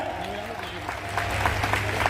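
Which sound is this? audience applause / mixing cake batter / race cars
audience applause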